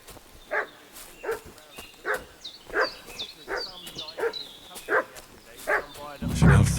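A dog in the video game Kingdom Come Deliverance 2 barks repeatedly, about ten sharp barks at a steady rhythm, close and loud, with faint chirping birds behind and a voice at the end.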